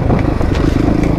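A new off-road motorcycle being ridden, its engine putting out a loud, close, rough buzz with rattling clatter over a short burst.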